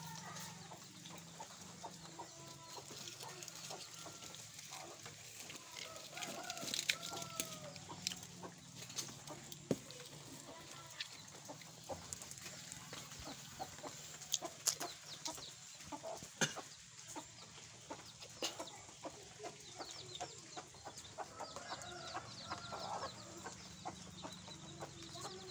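Chickens cluck on and off at a moderate distance over a steady farmyard background, with occasional louder calls standing out; among them is a four-legged chick.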